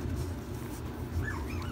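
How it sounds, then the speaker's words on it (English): Young puppies whining and yipping to be fed, high thin whimpers rising and falling near the end over a low steady background rumble. "puppies, and they're hollering to be fed"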